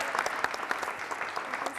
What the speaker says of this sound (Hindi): जोरदार तालियां बजाइए, जोरदार तालियां प्रिया जी के लिए